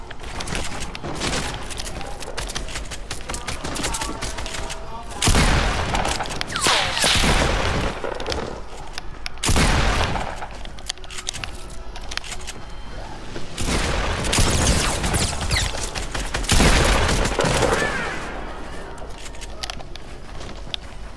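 Hunting rifles firing outdoors, a series of loud, close blasts in irregular clusters with rough, noisy stretches between them.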